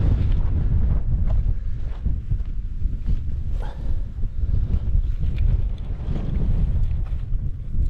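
Strong wind buffets the microphone in a loud, constant roar with low gusty rumbling throughout, near the summit of Yeavering Bell in the Cheviots.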